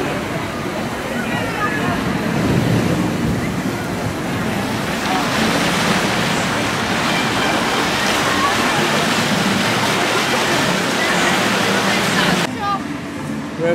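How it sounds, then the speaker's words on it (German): A small waterfall on a rafting ride at an amusement park gives a steady, loud, broad roaring rush of water, with people talking over it throughout. "Der kleine Wasserfall."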